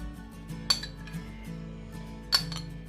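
A utensil scrapes and clinks against a bowl while mixing potato galette batter with whole eggs and a little oil, a quiet close sequence of soft stirring with two sharper clinks.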